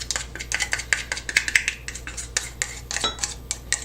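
A whisk rattles against a bowl, beating egg, egg yolk and buttermilk together in quick, irregular metallic clicks and scrapes, close and clear over a faint low hum.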